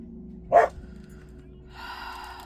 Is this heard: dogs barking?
yes